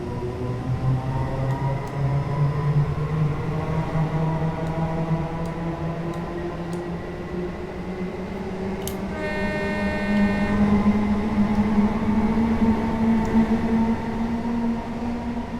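A passenger train pulling away from a London station in Train Simulator 2019, a steady rising electric motor whine and rumble that climbs in pitch, with a short bright chime partway through.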